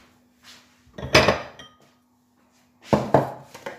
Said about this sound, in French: Je prends un récipient.